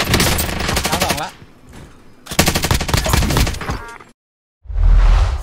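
A Stoner light machine gun in the video game Call of Duty Warzone fires in two loud, rapid automatic bursts separated by a brief pause, followed by a short silence and then another heavy burst starting.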